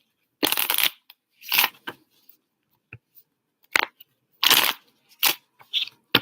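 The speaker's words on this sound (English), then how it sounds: "I shuffled and it's still here at the bottom of the deck." A deck of tarot cards is shuffled in several crisp, riffling bursts separated by short pauses, close and clear against a quiet room.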